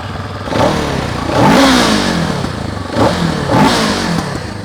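A CFMOTO 700 CL-X motorcycle with stock exhaust revs in two bursts, rising and falling sharply with a throaty exhaust note, close and loud, no voices.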